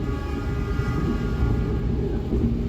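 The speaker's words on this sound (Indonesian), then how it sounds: "Selepas Cirebon, kereta api Jayakarta langsung tancap gas sampai dengan kecepatan maksimalnya ya" KA Jayakarta passenger train running at speed past Cirebon, a steady loud rumble with a continuous hum and no breaks.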